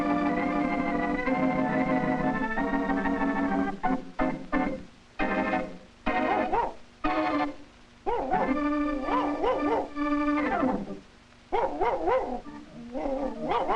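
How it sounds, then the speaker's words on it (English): A dog barks repeatedly in uneven bursts, with yips and whimpering howls between them, fairly close and loud. "Quiet, Cam. Stop your barking"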